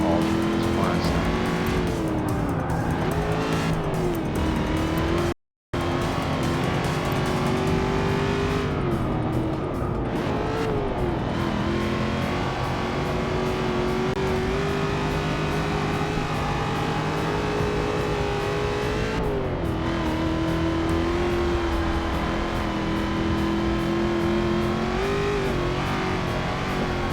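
A race car engine roars steadily on track in Forza Motorsport 6, its pitch climbing and falling through gear changes and corners over a constant loud drone, with one brief dropout early on.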